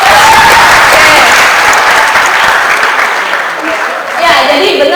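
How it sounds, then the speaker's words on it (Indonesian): A seminar audience on adolescent self-control breaks into loud, sustained applause, a dense wash of many hands clapping close and full for several seconds before easing slightly near the end. "tepuk tangan semua"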